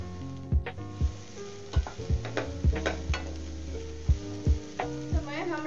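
Long-cut carrot and capsicum strips hit a hot pan, giving a steady sizzle with repeated close clinks and scrapes in an uneven rhythm, with a faint tonal hum underneath.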